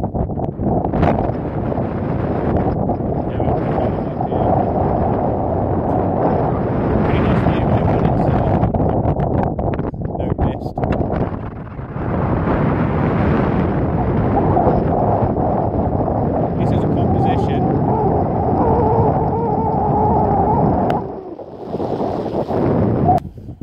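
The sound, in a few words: wind blowing on microphone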